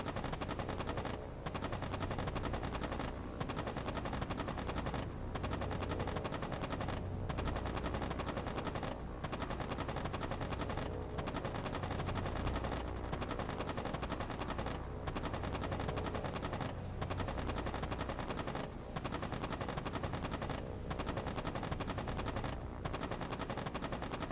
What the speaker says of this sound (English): I love how his turret gunner is firing at my guy.